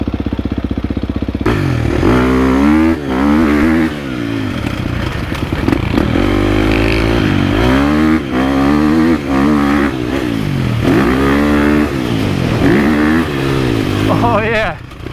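A 2023 KTM 350 SX-F dirt bike engine revs hard and close, pitch sweeping up and down through repeated throttle blips over a continuous running note.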